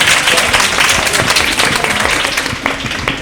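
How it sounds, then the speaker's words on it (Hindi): An audience at an Eid celebration show applauds loudly with dense, sustained clapping from a crowd throughout, ending with a few scattered claps. "मेरी तरफ से भी सबके लिए जो है ना भरपूर तालियां होनी चाहिए"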